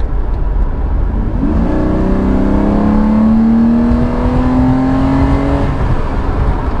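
A Ferrari 456 engine accelerates steadily, its pitch rising smoothly over several seconds against constant road and engine noise, loud and close.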